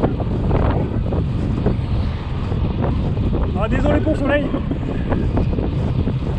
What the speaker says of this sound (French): Aujourd'hui c'est le vent.